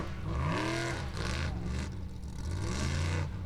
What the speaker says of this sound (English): Here's Gestur Ingolfsson driving the Dream.